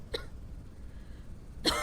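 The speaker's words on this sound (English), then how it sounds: "You are coughing though." Two short coughs from a video game character in a zombie quarantine game, one near the start and a louder one at the end, separated by quiet background hiss.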